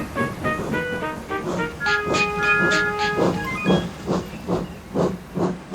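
A steam tank engine in a model railway adaptation hisses and chuffs while shunting coaches in a yard, with rhythmic steam puffs and brief whistle-like tones, moderately loud, with no talking.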